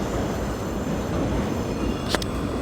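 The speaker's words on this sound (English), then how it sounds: "He might be heading out with that train." Steady low rumble of a train pulling out of a harbor yard, with a brief high metallic squeal near the end, heard from a distance.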